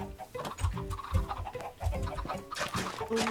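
Chickens in the video game Minecraft cluck in short repeated bursts, several calls spread across a few seconds over a busy bed of game sound.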